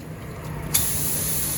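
A homemade pressure-washer undercarriage attachment sprays water up beneath a vehicle. After a softer lead-in, the spray kicks in with a sudden loud, steady hiss that carries on evenly, close by, with no talking.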